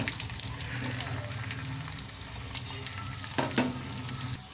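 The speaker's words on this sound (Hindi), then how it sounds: "1 टीस्पून अदरक चॉप की हुई जो है ये ऐड कर देंगे और इसको फ्राई कर लेंगे" Chopped ginger and dry spices sizzle steadily in a hot pan for an arvi masala curry, a continuous crackling fry with light stirring scrapes near the end, close and fairly loud.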